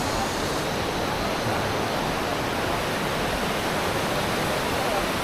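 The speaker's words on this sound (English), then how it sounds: "sitting in the rapids in a river in the middle of the jungle in the Philippines" River rapids rushing through a jungle in the Philippines, a dense, unbroken roar of churning water that stays close and loud for the whole stretch with no pauses.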